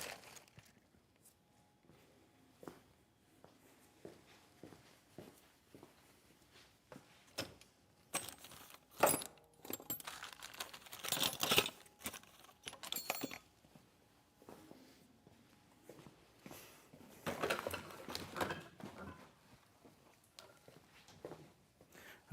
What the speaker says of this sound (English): I can get my Allen wrench here